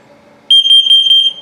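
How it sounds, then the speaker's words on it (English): A 2022 CrossRoads Zinger 290KB RV's LP and carbon monoxide detector sounds during a test: a piercing high electronic alarm tone bursts on suddenly, warbling in quick pulses for about a second, loud and close. "LP is good, carbon monoxide coming up."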